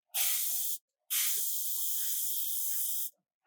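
Airbrush spraying ink with flow improver, two close hissing bursts: a short one, then a longer steady spray, with faint handling sounds in the gaps.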